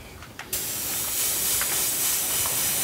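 An airbrush sprays red contrast paint over a zenithal undercoat on a miniature. A faint click comes first, then a steady, close, loud hiss of air and paint runs unbroken to the end, with no talking.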